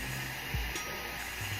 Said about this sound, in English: I hit it with the blow dryer on cold.